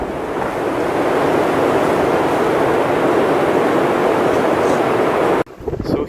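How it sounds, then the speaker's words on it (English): Strong Patagonian wind roaring in a dense, constant rush across the microphone, loud and unbroken for several seconds before cutting out abruptly near the end. "Now we don't have as much snow as before, but we have a lot of wind."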